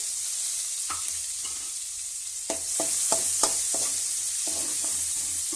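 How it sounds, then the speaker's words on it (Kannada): Chopped onion fries in hot oil with mustard seeds, cumin and chana dal, giving a continuous sizzle broken by several sharp scrapes and clacks of a stirring spoon against the pan. "ಚೆನ್ನಾಗಿ ಫ್ರೈ ಆಗಬೇಕು ಇದು"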